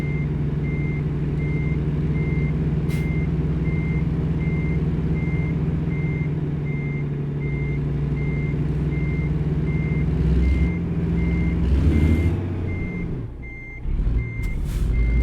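A semi truck backs up toward a trailer, and its reversing alarm beeps evenly and repeatedly over a constant low diesel rumble. Near the end, a few brief clunks and shifts break through the beeping.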